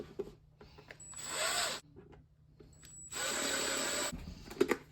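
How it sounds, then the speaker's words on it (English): A power drill whirs in two bursts of about a second each while drilling holes in containers, separated by quiet handling noises, with a faint clatter at the end. "I'm gonna do a couple more with the drill"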